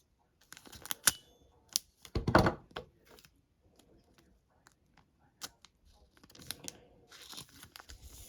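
A blade cuts a slit in thick card packaging from a football trading-card box, making a short crunchy rasp. Scattered quiet clicks and taps from handling come before and after.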